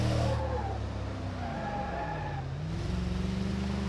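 Pickup truck in BeamNG.Drive braking hard, its engine droning steadily while tires skid and squeal in rising and falling whines, loud and continuous without any talk.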